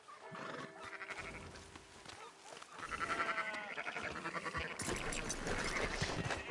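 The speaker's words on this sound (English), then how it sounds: "Fine sheep." Sheep bleat in the video game Red Dead Redemption 2, with several clear, close bleats over farm ambience, growing busier and louder in the second half.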